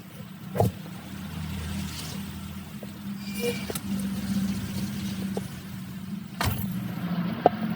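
A Mercedes-Benz W124 E320 idles at around 700 rpm, a steady low rumble running evenly through the whole stretch with a few faint clicks and brief knocks over the top.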